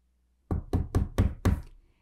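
Someone knocks on a utility room door in a home: five quick, evenly spaced knocks, close and solid, with silence before and after.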